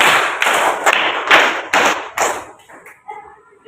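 A group claps in rhythm in a classroom lesson. Sharp, loud clusters of claps come in a steady pattern of bursts, then a few softer scattered claps and a faint voice at the end.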